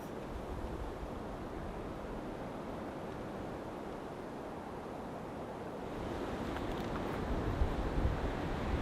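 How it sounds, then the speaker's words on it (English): Strong mountain wind roaring outside a Coleman canopy tent at night, a continuous heavy rumbling gust that swells louder toward the end, with no voices. "It is very windy outside."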